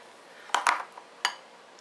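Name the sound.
mashed potatoes put into a bowl, dishes clinking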